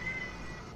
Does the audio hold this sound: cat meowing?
yes